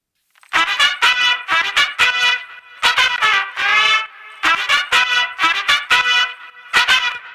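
Brassy Afro house trumpet phrases processed with an Aphex exciter for added high end, produced in Ableton Live; loud, bright, rapid stabs and short runs in repeating phrases with brief gaps, played alone.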